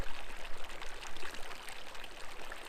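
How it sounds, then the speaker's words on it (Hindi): Stream water flows and splashes along a trekking trail in Meghalaya, a steady broadband rushing with small bright trickles, fairly close and unbroken, with no voices. "पानी की आवाज़ सुनो आप"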